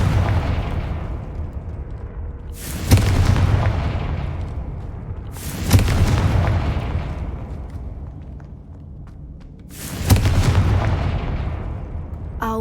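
Confringo fire spell explosions in the Hogwarts Legacy video game: three loud booming blasts spaced a few seconds apart, each with a sharp crack and a long rumbling decay over a constant low background.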